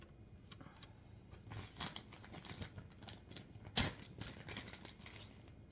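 A knife chops a large onion on a cutting board, with a series of uneven soft taps and one sharper knock, close and fairly quiet.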